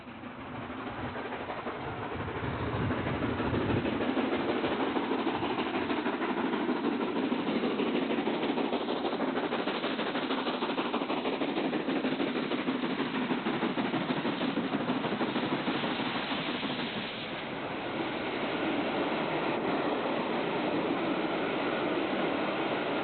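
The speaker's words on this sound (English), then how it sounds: "The engine is seen here near the village of Semley while working a railfan special between Andover" Southern Railway locomotive 30777 working a railfan special near Semley between Andover and Exeter, a steady rumbling engine and rail noise that swells and holds for over twenty seconds at moderate distance, with no talk.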